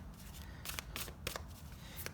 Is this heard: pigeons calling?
no